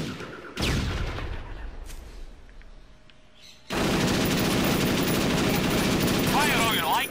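Gunfire in the video game Perfect Dark Zero during a jungle mission: a loud burst at the start, a quieter lull, then heavy sustained automatic fire that roars on to the end.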